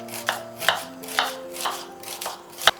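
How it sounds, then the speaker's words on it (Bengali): A knife thinly slicing onion on a board for fried onions (beresta), producing a steady series of crisp, close chops spaced roughly half a second apart, with a faint hum underneath. "একটা পেঁয়াজ এভাবে পাতলা করে কেটে নিচ্ছি, যেভাবে আমরা বেরেস্তা বানাই ঠিক সেইভাবে কেটে নিতে হবে"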